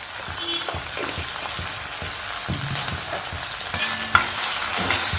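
Ginger garlic paste fries in a pan with a close, steady sizzle, while a spatula stirs in soft, irregular scraping strokes. A couple of sharper clinks come near the end, with no talking.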